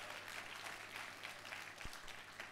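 A church congregation applauds in a steady, dense wash of clapping through the whole stretch, fairly close and even in loudness, with no voice on top.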